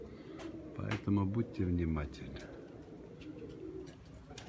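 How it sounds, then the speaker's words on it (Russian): Pigeons in a pigeon loft give a couple of deep, close cooing calls, with someone speaking over them and briefly afterward. "голубь, голубка, видите?"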